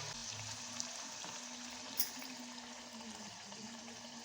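A puri for matar puri fries in oil, a faint, steady low sizzle with gentle bubbling and one small pop, heard close and quiet with no speech.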